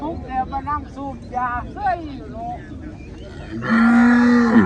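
Cattle mooing at a rural Thai cattle market, several drawn-out lowing calls close by, ending in a long loud moo, with someone talking over the animals and some wind noise.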